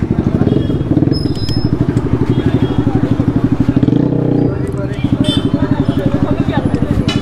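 A seized motorcycle's engine idles loud and close with a rapid, steady putter while the bike is taken away by police, and someone talks over the engine.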